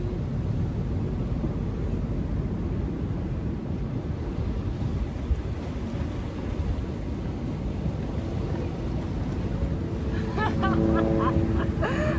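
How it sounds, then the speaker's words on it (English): Steady, dense low rumble of helicopter rotors droning overhead throughout, with a brief sharper overlay near the end. "Oh, these helicopters."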